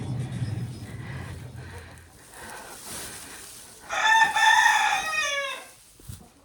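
Red hens cluck softly in the background, then a rooster crows loudly nearby, one long drawn-out call that trails off.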